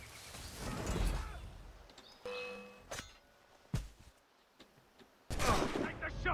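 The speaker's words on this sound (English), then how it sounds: "Both of you, go nuts. Start shooting dudes." Bursts of crew gunfire crackle in the Assassin's Creed Black Flag video game, several separate volleys with a loud flurry at the start and another at the end, mixed with game effects.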